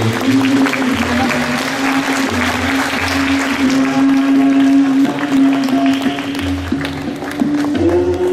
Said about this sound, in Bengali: আপনাদের করতালির সঙ্গে সঙ্গে